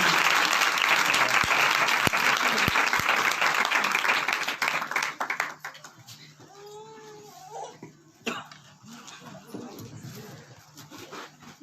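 A congregation at a night blessing meeting in a village claps loudly to welcome a preacher, with dense applause for about five seconds that then thins into scattered claps and quiet room noise.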